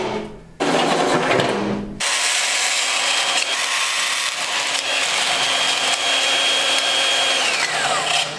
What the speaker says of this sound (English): use our bracket to mark out that one hole and drill it from here.